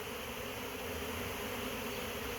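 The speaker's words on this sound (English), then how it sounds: "a whole bunch of bees still swarming around, quickly agitated" A dense, continuous buzz of many agitated honey bees from an afterswarm, swarming close by, loud and steady with no pauses.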